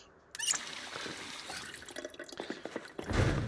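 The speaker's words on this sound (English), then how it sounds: "We'll get some water from the sink." Water from a sink in a zombie survival video game, a short trickling and splashing run with drips that swells louder toward the end.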